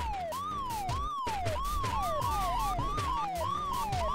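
An 8-bit style police car siren from the video game Retro City Rampage wails in quick, repeating up-and-down sweeps. It is loud and continuous throughout, with no talking.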